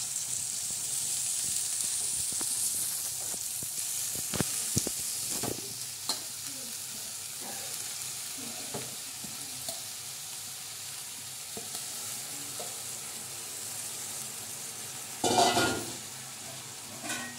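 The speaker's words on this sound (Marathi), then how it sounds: "चमचमीत आणि अशी बनण्यासाठी भाजी सोडणार आहोत" Fenugreek leaves sizzle steadily in a hot pan over reddened onions, with occasional scrapes and clinks of a spoon stirring, fairly quiet and close.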